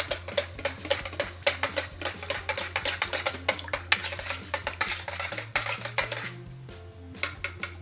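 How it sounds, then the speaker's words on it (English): Whisk stirring a freshly mixed lye soap batter in a pot, producing rapid, rhythmic metallic clinks and scrapes against the container, fairly close and continuous, with a low steady hum beneath and no talk. "So I'm going to use my whisk to give it a good stir."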